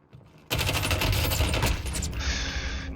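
Rapid automatic gunfire in Call of Duty Warzone, a dense, loud burst of repeated shots that starts abruptly and continues for a couple of seconds with a ringing, high-pitched tail.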